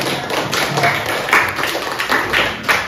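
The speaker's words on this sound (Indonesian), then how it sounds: "kita beri tepuk tangan untuk kelompok 1 yang udah presentasi" A sixth-grade class applauds a student group after their presentation, many hands clapping steadily and fairly loudly for about three seconds in a classroom, with no talking over it.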